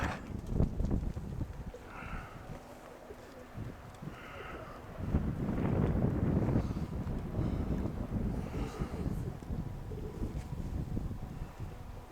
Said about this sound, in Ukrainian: Вітер хороший.